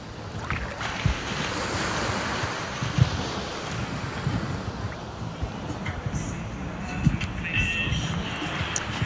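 Surf washing onto a beach in St Croix, a steady broadband wash with wind buffeting the microphone, continuous and fairly close across the whole stretch.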